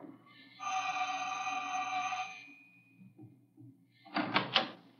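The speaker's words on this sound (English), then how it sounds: "Here's the janitor's door." A janitor's door in a radio drama gives a long tonal creak or buzz lasting about two seconds, then a short pause and a cluster of sharp clunks as it opens, close and clear.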